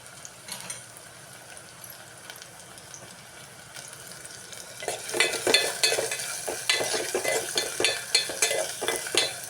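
Quail curry with green chilies, tomatoes and onions frying in groundnut oil, a steady sizzle that grows louder halfway through as a spoon scrapes and stirs the pan in quick repeated strokes.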